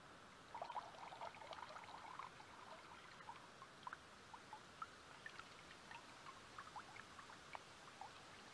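Faint trickle of pure water dripping from a cut jungle vine in the Brazilian bush, a soft continuous stream with small irregular splashes and drips, no talk.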